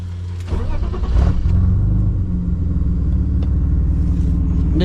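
A BMW car engine runs steadily just after starting, a loud close low rumble that swells briefly at about one second and then holds at a constant idle.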